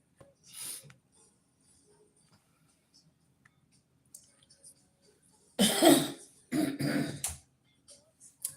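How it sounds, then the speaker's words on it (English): Someone clears their throat twice in quick succession, loud and close, after a quieter rasp near the start. "Forgive me for clearing my throat."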